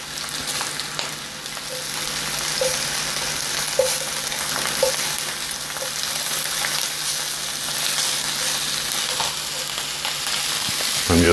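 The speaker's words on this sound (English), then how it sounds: "The sausage is browning to create another layer of flavor." Precooked sausage browning in oil in a frying pan, a steady close sizzle with faint scraping from stirring throughout and no speech.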